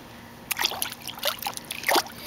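Water in a small backyard pool being lapped and splashed as an animal dips its head in to drink, with several short dribbling splashes and trickles close by against a quiet background.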